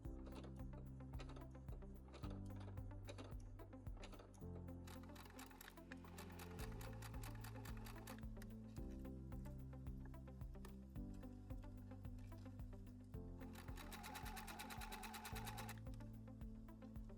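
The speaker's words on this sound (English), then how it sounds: "Start sewing from the top, keeping the stitches close to the zipper teeth." Sewing machine with a zipper foot stitching a zipper, a fast mechanical whir of rapid needle strokes in long bursts with brief pauses and speed changes, close and fairly quiet, alone without talk.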